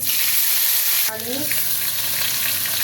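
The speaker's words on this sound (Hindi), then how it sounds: "अब हम इसमें गार्लिक ऐड कर देंगे, इसे थोड़ा भून लेंगे।" Garlic and green chillies frying in oil in a pan give a steady, loud broadband sizzle, with a brief clatter of something added or stirred just past the first second; no voices.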